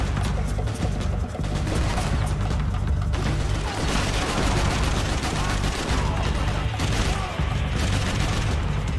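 Full-auto rifle fire in the video game Max Payne 3: loud, dense, continuous bursts of gunshots packed tightly together, with heavy booming impacts throughout and only brief dips between volleys.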